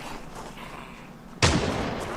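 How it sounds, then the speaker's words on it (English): A single sudden gunshot bursts out in the Project Zomboid survival video game, loud and abrupt after a stretch of low ambient game noise, then a sustained rumbling echo. "you hear the gunshot?"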